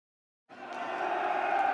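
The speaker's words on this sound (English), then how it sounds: "Listen to that crowd, Cassia." Crowd roaring in a dark vampire fantasy adventure game, swelling in abruptly after a moment of silence and holding as a steady, dense wall of cheering.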